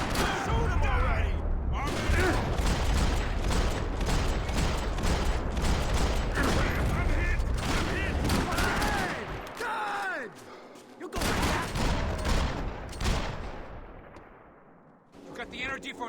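Dense, loud gunfire from the Xbox 360 game Max Payne 3: rapid overlapping shots and heavy blasts sustained almost without pause, briefly dropping out near the end before resuming, with voices mixed underneath.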